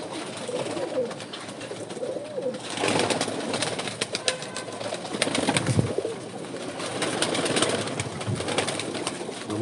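Breeder pigeons kept by a fancier, moulting season, cooing steadily at close range with soft murmuring calls and occasional rustling, without anyone talking over them.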